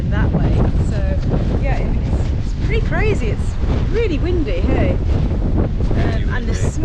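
Strong gusting wind buffets the microphone continuously outdoors near the hillside town of Casares, Spain, during wildfires, loud and roaring, with a person talking over it.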